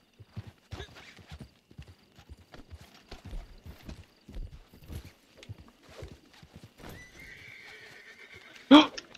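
A horse in the Western game Red Dead Redemption 2 walks with steady clip-clopping hooves under a person talking, then gives a loud, close neigh near the end.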